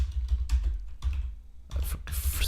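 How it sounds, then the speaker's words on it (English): Someone types on a computer keyboard in uneven bursts of clicky keystrokes with short pauses between, close and dry, with a low hum underneath. "sorry for my typing"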